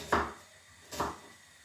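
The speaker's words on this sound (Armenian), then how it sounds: "Սոխը սովորականի նման կտրատում ենք ճաշի սոխի նման, մանր" A knife strikes a cutting board twice while cutting onion into small cubes, two close, separate thuds almost a second apart in a quiet room.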